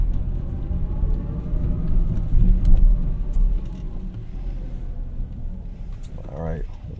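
Chevy Blazer EV driving near Road America, with steady low road and tire rumble that rises briefly and then eases, while a person talks throughout.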